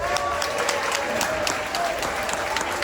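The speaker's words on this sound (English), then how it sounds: "Let's give them a round of applause." Spring sports teams for track, baseball and softball get a round of applause at a school event, a steady crowd of hands clapping close by for a few seconds, with light voices underneath.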